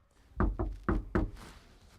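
Four firm knocks on a house's front door, spaced evenly and close by, with no voices and only quiet room tone afterward.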